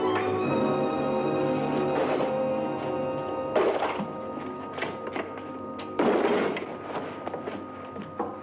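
In a 1943 Sherlock Holmes film, a crate holding a man is dropped, giving heavy wooden thuds over a sustained orchestral score, with two louder impacts a few seconds apart.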